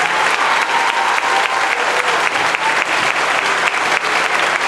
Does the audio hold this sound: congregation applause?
yes